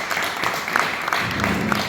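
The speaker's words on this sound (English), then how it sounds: "give him a wee round of applause, John." A short burst of applause from a crowd at a boxing press conference, steady hand clapping throughout with no voices standing out.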